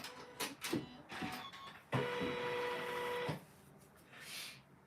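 A Janome M17 embroidery machine quilts in the hoop with quick mechanical stitching bursts. A steadier whirring run follows before it stops, all fairly faint, and a voice speaks briefly.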